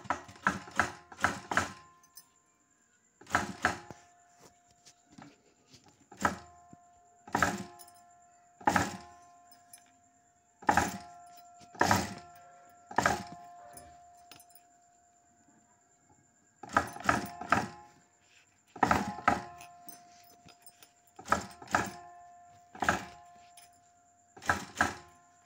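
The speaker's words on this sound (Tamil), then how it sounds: "இப்போ நம்ம மேலாப்பில் பெரட்டி போட்டு நம்ம தையல் போட போகிறோம்." A tailor's sewing machine stitches a silk blouse in short, clattering bursts with pauses between, quiet and close, some runs quick and rattly, others single clicks.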